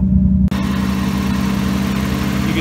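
A Nissan 240SX engine idles steadily with a low, even rumble after a brief gap at the start, its misfiring idle making the car shake, close and continuous throughout.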